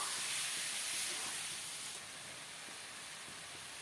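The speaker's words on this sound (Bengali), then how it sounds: "আমি 5 মিনিটের মতন পেঁয়াজ রসুন আদার সাথে মাংসটাকে ভালো করে কিন্তু ভাজি নিয়েছি।" Mutton fries in a pan with onion, garlic and ginger, a steady faint hiss and sizzle that carries on evenly without talking.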